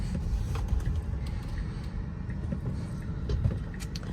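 A 2022 Tesla Model Y Performance driving in sport mode, giving a steady low road rumble and tyre noise from inside the cabin with faint background whir, continuous and even, with no speech.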